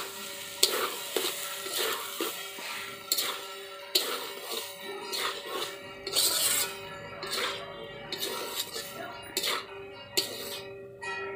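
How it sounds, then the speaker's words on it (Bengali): Vegetable fried rice being stirred in a hot pan, with repeated scraping and clinking strokes of the spoon over a steady sizzle, close and moderately loud throughout. "ভাতটাকে দিয়ে দিলাম, নাড়াচাড়া করি"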